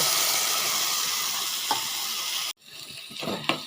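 Pumpkin pieces sizzle in a clay pot while being stirred, a continuous loud frying hiss that drops briefly and returns softer, with scraping stir sounds near the end.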